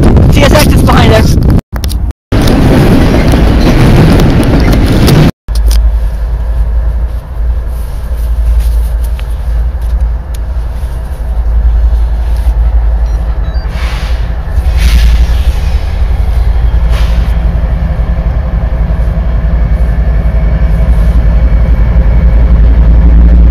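A CSX freight train rolling through Belen, loud and close, with heavy low engine rumble and continuous wheel noise after some handling bumps, a voice briefly heard at the start.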